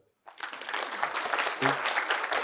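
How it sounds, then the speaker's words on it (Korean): Audience applause breaks out after a short silence, a crowd's clapping swelling quickly and then holding full and steady, with a faint voice briefly underneath. "박수 한번 치죠"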